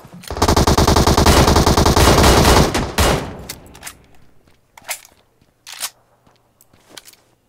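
Sustained automatic gunfire in the battle royale video game PUBG, a loud rapid burst lasting a few seconds, then a couple of separate shorter shots and faint clicks and footsteps afterward.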